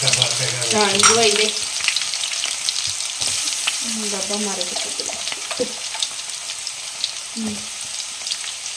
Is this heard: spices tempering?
yes